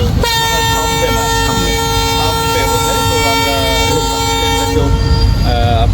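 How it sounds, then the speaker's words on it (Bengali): A sustained, loud train horn blares steadily for several seconds as a train approaches a station in a village, over rumbling background noise, with a voice talking underneath. "আমার কথা বলতে বলতে একটা ট্রেন চলে আসছে"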